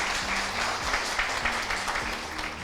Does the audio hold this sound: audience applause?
yes